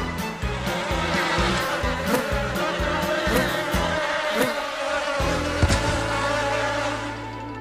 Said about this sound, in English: And here you thought my bees were useless.